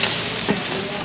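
Onions and garlic with whole black peppercorns sizzle in hot oil, a short burst of dense crackling close by.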